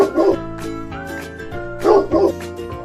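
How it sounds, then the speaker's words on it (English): Dog barking in two short clusters of sharp barks, close and clear, with soft music running underneath. "Dog."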